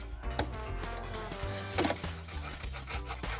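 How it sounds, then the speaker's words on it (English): Lemon zest is rubbed against a kitchen grater in quick, quiet scraping strokes, a soft irregular rasping close by. "I'm just going to grate a little bit of the lemon zest in there."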